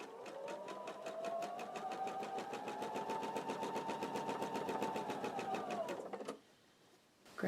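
A sewing machine chain-piecing quilt pieces, sewing right sides together, runs in a steady, fast stitching rhythm for about six seconds, then stops abruptly, leaving quiet room sound.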